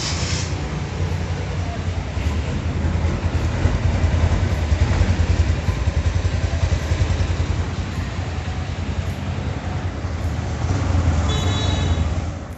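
A Yamaha YBR125 motorcycle with a homemade silenced exhaust rides through busy city traffic, its muffled engine droning steadily and close with a constant rumble from start to end.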